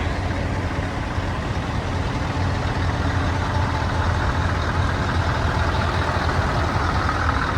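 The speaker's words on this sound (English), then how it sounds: "A Volvo 540 horsepower." A Volvo 540 horsepower truck engine at a truck show gives a steady, loud, low rumble that holds evenly throughout, with no talk over it.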